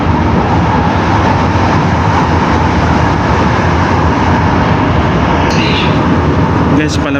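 An LRT Line 1 train rolls toward Redemptorist Station in Baclaran, its steady broadband rumble and rail noise filling the space loud and close throughout, with a brief higher squeal near the end.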